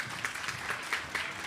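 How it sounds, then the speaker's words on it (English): Applause at a cadet corps enrollment and promotion ceremony in Saint Lucia, a short burst of steady clapping from an audience, soft and somewhat distant, with no talk. "A round of applause for Mr. Raghunandan."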